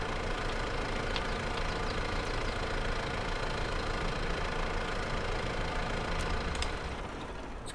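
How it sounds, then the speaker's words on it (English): A vintage tractor engine idles steadily and fairly close, a dense continuous rumble with a slightly knocking texture that holds for the whole stretch with no talk. "Let's see if the tractor's any good."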